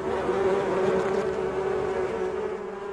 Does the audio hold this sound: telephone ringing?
no